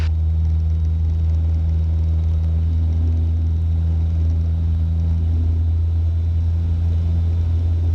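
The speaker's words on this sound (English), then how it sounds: "Now you hear how the air's noise and the engine noise going up?" Small airplane engine drones steadily with strong low rumble and rushing wind while descending toward a runway on the approach to land, a continuous near and loud hum with no talk.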